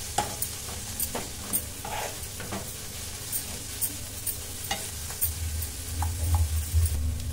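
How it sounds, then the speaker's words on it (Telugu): Ginger garlic paste with turmeric frying for a goat brain masala fry makes a soft continuous sizzle with scattered light taps and scrapes of a spoon on the pan, close and quiet, no talking. "అల్లం వెల్లుల్లి పచ్చివాసన పోయేంత వరకు మంచిగా ఫ్రై అవ్వనివ్వాలి."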